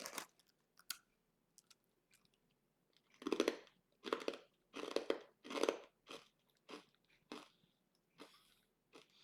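Loud, close crunching bites into very crunchy crackers, followed by a series of steady chewing crunches that gradually soften, with brief quiet gaps between.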